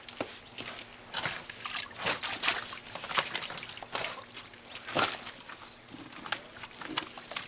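Water from a leaking underground water line trickles and gurgles in a dug hole, with irregular close splashy bursts over a steady wet background.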